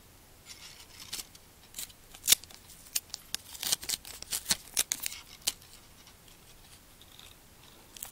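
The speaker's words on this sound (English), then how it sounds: "I'll use a couple pieces of tape here." Strips of tape are pulled and torn while fitting a battery and LED wiring into a 1/64 scale 2020 Monster Energy Bristol All Star race car model, giving a string of sharp, quiet crackling rips and snaps with no talking.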